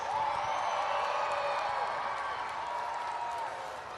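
Arena crowd at a Monster Jam event in Providence, Rhode Island, cheering and applauding after a two-wheel skills run, a dense, steady roar that holds for several seconds before easing slightly at the end.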